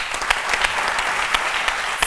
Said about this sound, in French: Ça s'applaudit, ça aussi.